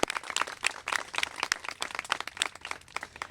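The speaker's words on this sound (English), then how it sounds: "Let's give that a round of applause, right?" Scattered hand claps from an audience at a Louisiana celebration of the Adoption Tax Credit Act, sparse and uneven with sharp individual slaps through a short burst and no talk over them.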